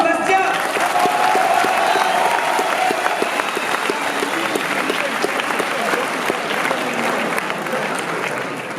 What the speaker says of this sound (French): on applaudit Sébastien.